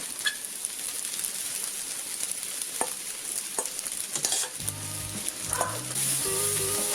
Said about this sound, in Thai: ผัดจนไข่แห้งนะคะ